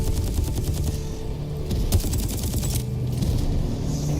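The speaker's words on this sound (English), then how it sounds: "allowing to finish it off with a few well-placed shots" Dense, continuous gunfire and explosions from the tactical shooter video game Exoborne, with rapid shots and booms layered over a steady low rumble throughout.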